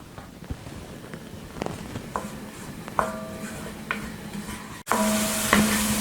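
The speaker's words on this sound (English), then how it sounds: "We really want to stir these into the onions and ginger really well." Turmeric and cumin stirred into sizzling onions and ginger in a pan, a steady close fry hiss broken by spoon scrapes and clinks against the pot, louder near the end.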